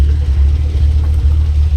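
Chevrolet Camaro engine idling close by, a loud, steady low rumble with a slight pulsing rhythm and no talk.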